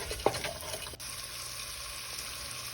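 Beef sizzles faintly in oil in a pot, with a soft sputtering hiss, while a single brief scrape of a stir comes early on.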